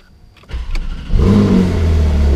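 A Porsche 911 GTS engine starts with a key: a short starter crank, then the flat engine catches and revs loudly before settling into a strong close idle.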